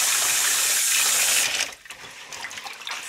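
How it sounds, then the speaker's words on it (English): Running water pours steadily as sushi rice is rinsed, a loud broad rush that drops off midway and continues as quieter, uneven splashing and trickling. "Gently mix it. You do this 6 or 7 times, whatever you need, until the water is clear."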